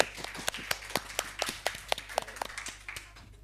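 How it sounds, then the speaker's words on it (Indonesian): A small audience claps for a student after a storytelling performance at a school broadcasting showcase, a sparse run of distinct, fairly close handclaps in an uneven rhythm that thins out toward the end. "Sekali lagi buat tepuk tangan lagi buat Dede Vinsa"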